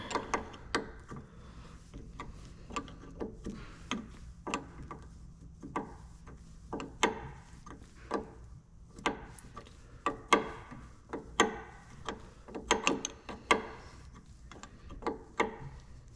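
A ratcheting hand tool tightening bolts on a Brembo 6-piston and 4-piston big brake kit for a Z31 300ZX, producing quiet, quick clicking bursts in irregular runs, close and faint, without talking.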